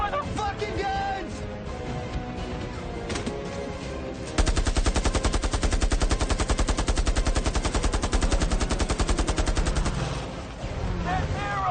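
Automatic gunfire rattles in a loud, dense burst lasting several seconds, with scattered shots around it, during a battle scene in a 2019 war movie; voices shout briefly amid the firing.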